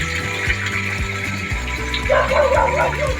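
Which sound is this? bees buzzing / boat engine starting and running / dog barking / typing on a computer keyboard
dog barking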